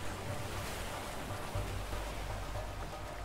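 Rushing waterfall water in the video game A Way Out forms a loud, steady broadband roar with no breaks, heavy in the low end.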